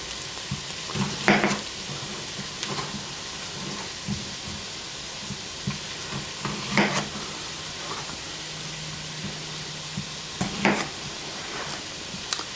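Ingredients for a one-pot Zuppa Toscana soup saute in a pot, making a steady soft sizzle broken by louder clattering stirs and bumps at irregular intervals, with no voices.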